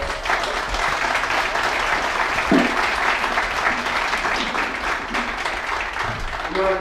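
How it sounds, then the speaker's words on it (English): A crowd at the 2020 junior hurling championship final, Dungloe v Carndonagh, applauds continuously, a dense, steady roar of clapping that sustains throughout without any pause. "Round of applause for Dungloe."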